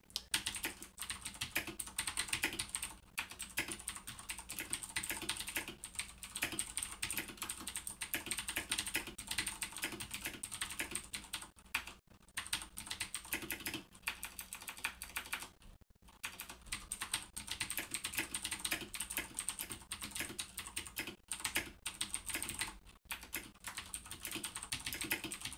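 Typing on a Nixeus Modo Pro mechanical keyboard in a notepad, a close, continuous stream of clacky keystrokes with a few brief pauses and occasional heavier spacebar thocks.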